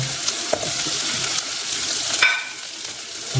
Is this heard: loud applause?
no